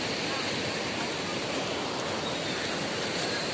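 Steady broadband rush of flowing water at a hot spring pool along the Gangotri route in the Himalayas, a continuous close wash with no breaks and no talk.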